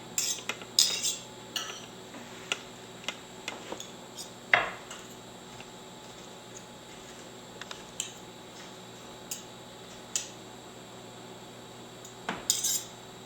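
A fork combs strands from cooked spaghetti squash down toward the rind, with sparse clinks and light scrapes against the bowl or shell, close and fairly quiet, spaced out irregularly over several seconds.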